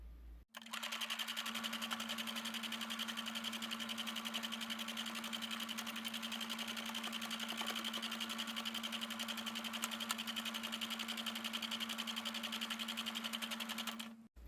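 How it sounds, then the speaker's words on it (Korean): A sewing machine joins fabric hat pieces in one continuous run, a close, steady mechanical whir with a fast stitching rhythm that starts abruptly and stops after about fourteen seconds, with no talking. "얘는 연결해서 한 번에 바느질 하겠습니다"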